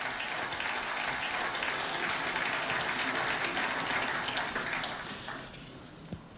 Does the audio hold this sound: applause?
yes